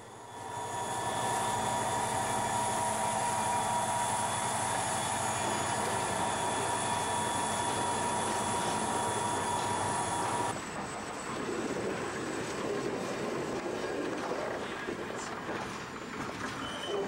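Goderich Exeter chop-nose GP9 diesel locomotives, General Motors Canada built, pass with a leased Burlington Northern unit at Mitchell, Ontario, a loud sustained engine drone and rolling rumble with high whine that shifts abruptly midway into clattering freight cars.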